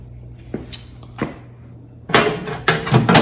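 A metal door of a Changemoore pizza oven is fitted and slid into place, giving a few sharp clicks and taps followed by louder scraping, rattling slides near the end, all close up with no talk.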